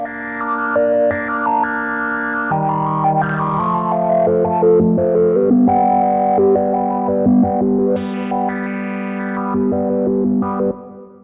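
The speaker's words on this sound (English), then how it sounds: "So listen to the reverb as well." A GForce Bass Station synthesizer plays sustained chords and shifting notes drenched in effects, with a washy reverb tail and gritty distortion filling out the sound.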